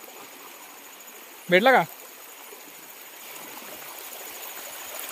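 A village stream at night flows with a steady, even rush of water, while a voice speaks one short word partway through.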